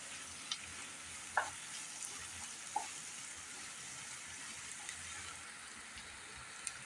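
Paneer and green peas curry base sautéing in a pan, a faint steady sizzle with a few soft stirring clicks and taps, quiet and continuous with no voices.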